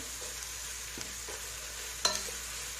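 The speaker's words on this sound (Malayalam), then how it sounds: "നന്നായി ഇളക്കി കൊടുക്കാം സബോളയിൽ കുറച്ച് ഉപ്പ് ചേർത്താൽ പെട്ടെന്ന് സബോള വഴണ്ടി കിട്ടും" Onions with salt fry in a pan for a Kothamangalam-style dum biryani, a steady quiet sizzle with a few soft scraping stirs and one sharper clink of the utensil against the pan.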